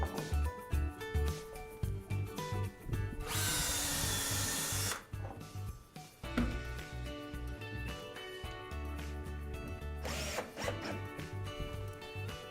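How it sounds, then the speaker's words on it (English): Power drill boring pilot holes through an elevator cab wall panel with a supplied drill guide, two loud whirring bursts of a few seconds each separated by quieter handling and rattling, no talk. "use the drill guide that's supplied to drill your pilot holes"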